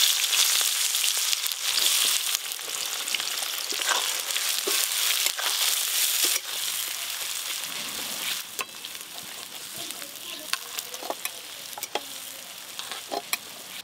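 Dried chilli, bay leaf and chopped onion fry in hot oil, a loud continuous sizzle that softens partway through, broken by scraping stirs and sharp crackles.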